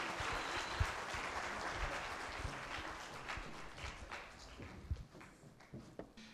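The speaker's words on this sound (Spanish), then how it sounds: "démosle un caluroso aplauso a nuestro ponente" Conference audience giving a lecturer on judicial argumentation a round of applause, fairly quiet clapping that starts dense then thins into scattered, separate claps as it fades out.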